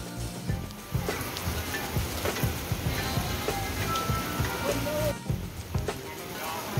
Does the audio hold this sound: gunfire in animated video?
no